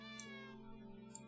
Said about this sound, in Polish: Słychać te koty tu.